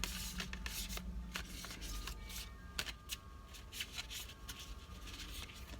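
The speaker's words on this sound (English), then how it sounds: "I'm shuffling one more time." Tarot cards are shuffled up close in quick riffling bursts and soft slaps, a repeated papery flutter with brief pauses between.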